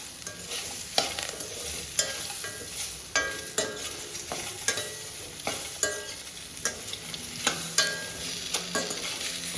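Guava chutney ingredients with a little coriander leaf being sautéed in a pan: a steady sizzle broken by repeated scraping stirs at roughly one-second intervals, close and alone with no talk.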